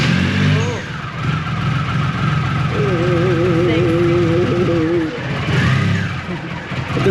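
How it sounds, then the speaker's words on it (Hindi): A 2300 cc car engine cold-starts and settles into a loud, rough idle close by, with a rising whine partway through and people talking over it. "तो भाई इसको स्टार्ट करते हैं अब एक बार"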